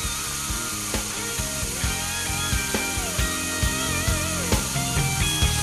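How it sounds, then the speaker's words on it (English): A power drill with a stirring attachment degasses wine, whirring steadily with a rattling, ratcheting mechanical texture and pitch that shifts slightly as it runs, with no voices. "Using this drill attachment seems to work a lot better than a standard stir stick"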